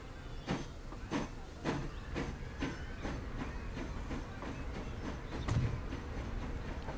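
Train rolling along track in the transport building game Transport Fever 2, a quiet, regular clickety-clack of wheels over rail joints with a soft background rumble.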